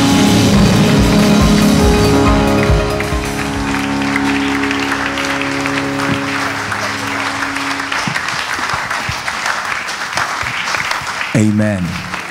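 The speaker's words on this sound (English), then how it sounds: "With a resounding round of applause and a standing ovation shall we welcome our speaker for tonight" Conference audience breaks into applause and a standing ovation welcoming a speaker, loud sustained clapping mixed with music and an emcee talking over it, fading slightly toward the end.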